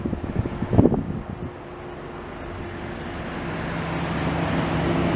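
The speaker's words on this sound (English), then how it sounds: "All kinds of traffic from the paving operations they got going on." Road traffic on Skyline Drive in Shenandoah National Park, busy with paving operations, heard as a steady broadband rumble and wind-like wash that builds gradually, with a few louder bumps near the start.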